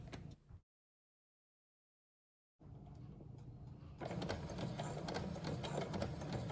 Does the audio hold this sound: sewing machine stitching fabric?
yes